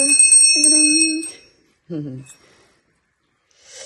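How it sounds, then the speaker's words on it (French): A small porcelain bell rings with a bright, clear tinkle for just over a second, close and loud, while someone speaks over it. "La petite cloche."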